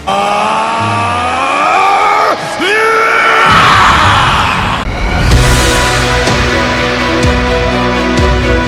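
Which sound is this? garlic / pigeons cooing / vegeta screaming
vegeta screaming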